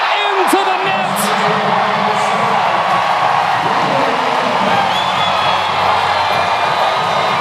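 Crowd in a packed gym at a men's college volleyball match, Hawaii against Stanford, roaring and whooping in a sustained loud wash of cheering, with a commentator's voice over it.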